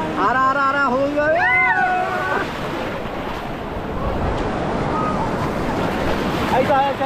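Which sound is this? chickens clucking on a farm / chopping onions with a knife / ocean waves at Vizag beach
ocean waves at Vizag beach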